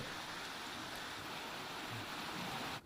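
Rushing floodwater pouring through a street after torrential rain in Sihor, Bhavnagar, a steady, unbroken roar of moving water at moderate distance with no voices.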